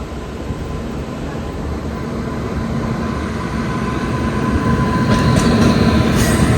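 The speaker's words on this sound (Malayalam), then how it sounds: "രത്തിസാഗർ എക്സ്പ്രസ് വരുന്നുണ്ട്." Raptisagar Express hauled by a white WAP7 electric locomotive approaches a station, a steady rail rumble building gradually louder with brief high squeals near the end, no voices.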